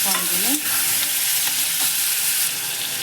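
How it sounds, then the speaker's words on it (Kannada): Chopped tomatoes tipped into onions frying in a pan for dal fry give a steady, loud sizzle, with a brief scrape and splatter early on and a couple of soft knocks of a spoon later. "ಈರುಳ್ಳಿ ಎಲ್ಲ ಬೆಂದಿದೆ ಅನಿಸುವಾಗ ಈ ಸಣ್ಣ ಕಟ್ ಮಾಡ್ಕೊಂಡಿರೋ ಒಂದು ಮೂರು ಸಣ್ಣ ಸಣ್ಣ ಮೂರು ಟೊಮೆಟೊ ತೊಗೊಂಡಿದ್ದೀನಿ ನಾನು ಮೂರು ಟೊಮೆಟೊ ಹಾಕ್ಕೊತಾ ಇದ್ದೀನಿ"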